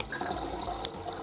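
Liquid from a drink bottle trickling through a Sawyer Squeeze water filter, a steady soft watery hiss and splash with one brief sharper drip near the end.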